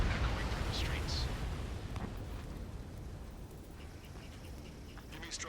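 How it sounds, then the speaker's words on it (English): Gunfire and roaring jets fill a city street under martial law in the Ace Combat 7 video game, a loud, dense wash of rumbling noise with occasional sharper bursts throughout. "Gunfire and the roar of jets echoing through the streets"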